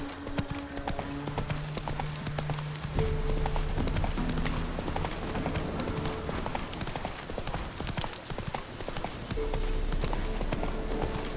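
Horse hooves galloping in The Witcher 3, a fast steady clip-clop running throughout beneath sustained game music tones, near and fairly loud, with no talking.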